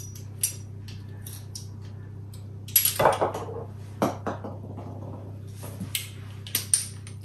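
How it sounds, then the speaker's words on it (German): Garlic is pressed through a metal garlic press onto onion in a kitchen, giving faint metallic clicks and squeezes over a steady low hum, with scattered clinks of utensils. "presse den Knoblauch gleich zur Zwiebel mit durch."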